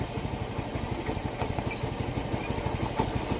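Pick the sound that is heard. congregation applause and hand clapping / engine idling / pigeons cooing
engine idling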